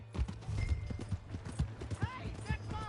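Horse hooves clip-clop in quick rhythm in Red Dead Redemption 2 as a mount is ridden off, with a horse whinny and voices speaking over the galloping.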